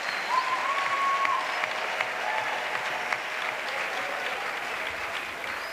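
A church congregation at an evangelistic crusade bursts into sustained applause, a dense, even clatter of many hands that fills the room and fades slightly toward the end, with no voices on top.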